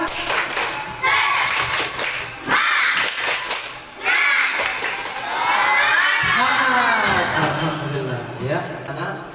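A group of people claps in a quick rhythmic pattern and cheers, with loud mixed voices shouting together between bursts.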